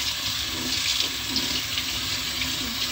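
Water runs steadily from a household tap as a child washes hands at a sink, a close continuous hiss and splash with no talking.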